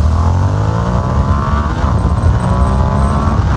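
A Ducati XDiavel motorcycle, run in its most aggressive Power Launch mode 1, pulls away hard with a loud, close, continuous engine roar as the pitch climbs through the gears, with no voices.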